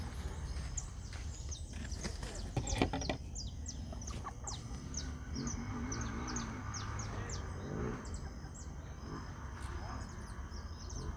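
Small bird chirps repeat in short high bursts over a low steady background hum, with a clucking chicken and a voice heard briefly early on.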